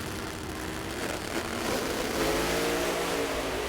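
Drag racing cars, one of them turbocharged, roar down the strip at the U.S. Nationals in a loud continuous blast of engine noise with no pause, dense and harsh throughout.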